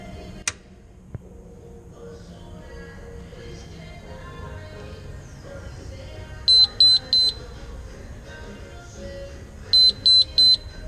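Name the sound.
ice machine alarm code beeps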